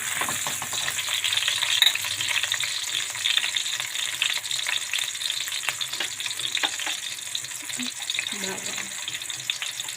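Squid cooking in a pan, a soft continuous sizzle with light stirring and clinks, fairly quiet, with a brief faint voice near the end.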